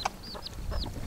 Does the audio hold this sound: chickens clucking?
yes